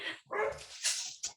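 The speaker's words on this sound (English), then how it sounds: "Has the dog got an answer" A dog barks loudly and close by, two or three sharp barks with short gaps between them, heard alone with no talking.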